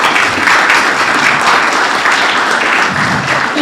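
Applause from an audience at a school district board meeting, a steady wash of many hands clapping together, fairly loud and sustained throughout with no talk over it.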